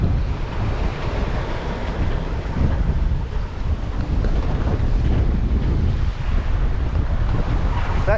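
Strong wind gusting at around 22 to 27 knots roars across a sailing boat in the Canary Islands, a loud, constant buffeting rush mixed with water noise close to the microphone, with no speech.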